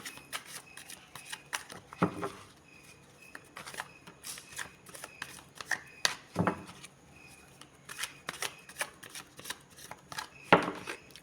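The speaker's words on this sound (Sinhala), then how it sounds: "අපි කාඩ් ෂෆල් කරමු." Tarot cards being shuffled by hand, a run of crisp riffling and soft slapping bursts with a few louder snaps, close and fairly quiet, with no talking.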